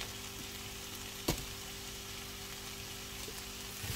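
Leftover ham frying in a pan, seasoned with a pinch of salt and pepper, producing a soft, continuous sizzle with one brief sharp clink partway through.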